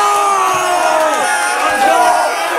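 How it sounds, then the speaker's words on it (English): A loud crowd cheers and shouts after a Division III high school basketball championship win, with dense overlapping whoops and yells filling the space continuously. "Guys, make some noise."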